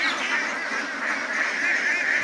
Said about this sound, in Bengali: এটা একটা হাঁসের খামার।